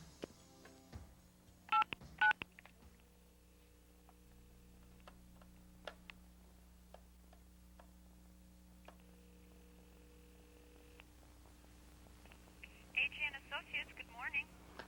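A telephone being dialed, a few short tone beeps at the start and a quick burst of key tones near the end over a low steady mains hum and scattered faint ticks, quiet and close.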